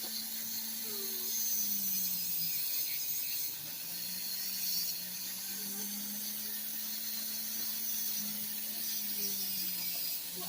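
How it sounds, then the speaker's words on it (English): A rotary tool fitted with a 2500 grit 3M radial disc polishes wire-wrapped jewelry, giving a faint, steady high whine with a slowly wavering low hum and light scratchy contact noise throughout. "So we have the 2500 grit disc on, and we're going to polish this up."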